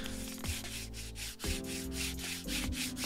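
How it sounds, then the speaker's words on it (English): A fingernail scrapes across the textured scales printed on a Pokémon Charizard collection box, giving faint rhythmic rasping strokes about once a second, quiet and close. "if you scrape that, you can feel some kind of friction"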